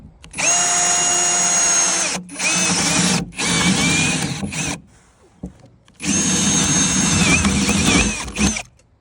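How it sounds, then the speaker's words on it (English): A power drill whines loudly in long bursts, drilling holes through a wooden sink base cabinet floor, with short pauses between runs and a quieter gap near the middle. "I'm gonna go ahead and drill those out."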